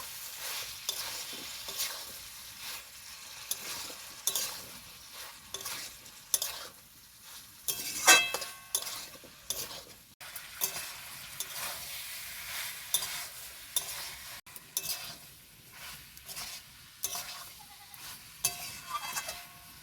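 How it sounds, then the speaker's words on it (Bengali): Boiled jackfruit stir-fried with potato and chicken pieces in a pan, a continuous sizzle broken by repeated rhythmic scrapes and clacks of the spatula, close and moderately loud. "এঁচড়টাকে আরও কিছুক্ষণ কষিয়ে নেব।"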